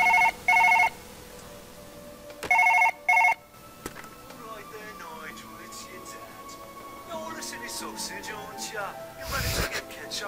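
Telephone ringing in the video game Surgeon Simulator: two short bursts of an electronic bell ring near the start, then a third double burst, followed by game sounds and a brief voice.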